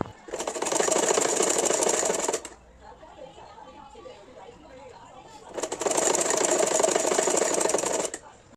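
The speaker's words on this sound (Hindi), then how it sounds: "फोल्ड करने के बाद इस पे हमें सिलाई लगा देना है" Sewing machine stitching folded fabric for a small Laddu Gopal dress: two loud, fast bursts of whirring stitching about two seconds each, with quiet handling and a voice in the gap between them.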